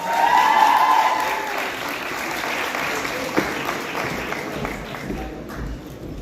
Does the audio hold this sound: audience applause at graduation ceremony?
yes